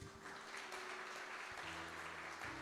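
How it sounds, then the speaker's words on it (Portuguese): A church congregation applauds during a Portuguese-language sermon on spiritual authority, a dense steady wash of clapping filling the whole moment, with faint tonal hum and low organ-like notes underneath. "Quem compreendeu, aplaude Jesus."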